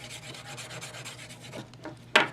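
Key scraping across the back case of a Moto X phone, a series of rhythmic rasping scratches close up and moderately loud, ending with a sharper, louder scrape.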